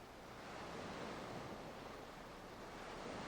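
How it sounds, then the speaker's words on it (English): Rolling ocean surf murmuring steadily as a broad, even wash of noise, soft and continuous with no distinct breaks or voices. "A deep blue sea murmurs through the rolling surf."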